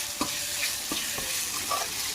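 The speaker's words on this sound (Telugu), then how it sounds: "చూడండి, టమాటాలు వేసి మంచిగా వేగుతుంది." Tomatoes and onions frying with ginger-garlic paste for a raw banana curry, giving a steady close sizzle broken by light stirring scrapes.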